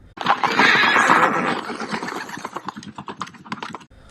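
A horse whinnies loudly and close in The Walking Dead, followed by a quicker run of sharp, rhythmic clicks like hooves clattering, then sudden silence.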